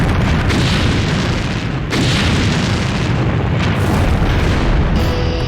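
The Titan IV rocket explosion roars as a massive, continuous rumbling boom, loud and dense throughout, with deep low-end thunder and a couple of surging bursts.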